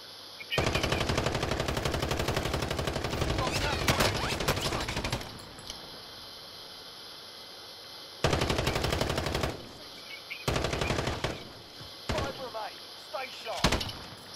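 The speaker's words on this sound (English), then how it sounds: "No, you're still getting shot from guns." Automatic gunfire in the Call of Duty: Modern Warfare battle royale, with long sustained bursts, a break, then several shorter bursts, all loud and close, with faint talk underneath.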